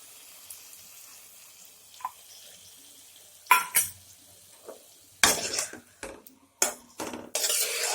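Vegetable curry with mung dal and pointed gourd being stirred in a pan after spice paste is added: scattered scraping and clinking of a spoon against the pan, with bursts of sizzling toward the end, no voices.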